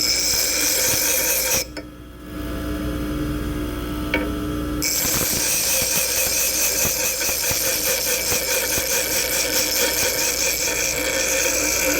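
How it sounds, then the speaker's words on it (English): A bench grinding wheel whines steadily as a threading tool is held against it at an angle above center, the high grinding tone dipping briefly before resuming loud and continuous. "I'm kind of holding it at an angle above the center line of my grinding wheel"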